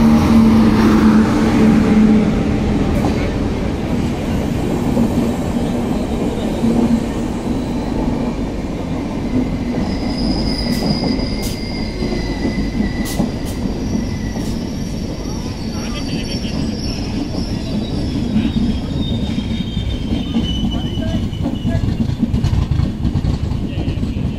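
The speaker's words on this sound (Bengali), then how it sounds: "বলতে বলতে নিজের ছন্দে জনশতাব্দী ঢুকে গেল চিত্তরঞ্জন স্টেশনে 2 নম্বর প্ল্যাটফর্মে।" Jan Shatabdi Express rolls into platform 2 at Chittaranjan station with a loud, steady rumble of wheels and carriages, brief high brake squeals, and muffled voices in the background.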